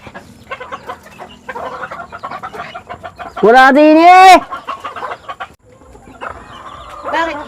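A rooster crows loudly and close by in the middle, with scattered clucking around it while people talk over most of the clip.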